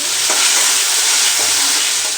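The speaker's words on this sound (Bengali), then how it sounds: "দেখুন গাইস, আমার গাজরটা ভাজা হয়ে এসছে" Loud, continuous sizzling of sliced carrots frying in hot oil, close up, with faint stirring scrapes.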